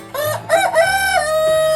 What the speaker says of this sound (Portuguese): E o frango ameraucano, ele já começou a cantar.